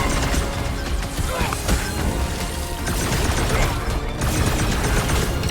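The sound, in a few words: gunfire in Marvel's Guardians of the Galaxy video game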